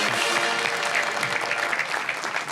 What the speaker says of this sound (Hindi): तालियां बजाइए अहमद भाई के लिए।